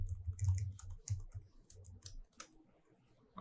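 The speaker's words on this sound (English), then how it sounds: "So I'll just type the password to get in." Someone types a password on a computer keyboard, a quick run of soft key clicks close to the microphone followed by a few scattered taps at a low level.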